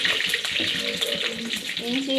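Mustard seeds crackling in hot oil for a fish curry, a dense steady hiss with scattered small pops, close and continuous throughout.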